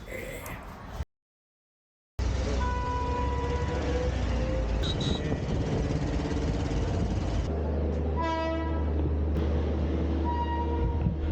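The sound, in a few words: passenger train running to Jaipur, India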